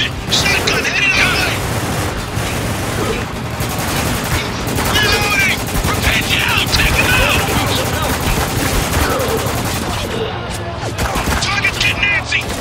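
Dense, continuous gunfire and explosions roar through a battle in the video game Spec Ops: The Line, loud and unbroken, with someone talking over the combat.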